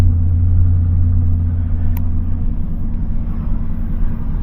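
A Chevrolet Silverado pickup's engine idles steadily with a deep, continuous low rumble, close and fairly loud, with no speech over it.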